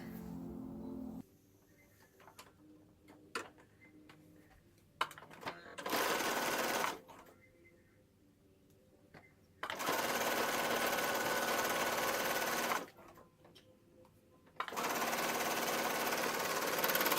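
Sewing machine stitching fleece hat pieces, three loud continuous bursts of rapid whirring separated by quiet pauses with small handling clicks, close to the listener.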